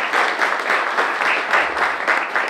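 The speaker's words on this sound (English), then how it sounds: "So round of applause for our sponsors." Applause at a donor appreciation luncheon, with a roomful of guests clapping steadily in a dense, moderately loud patter that holds throughout without fading.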